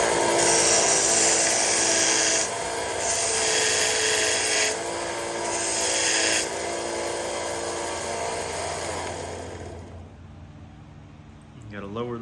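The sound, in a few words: sharpening a flint-knapping tool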